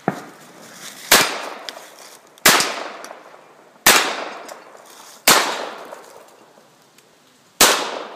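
Six sharp gunshots from a Hi-Point .45 pistol, spaced roughly a second and a half apart outdoors, each a loud crack followed by a decaying echo.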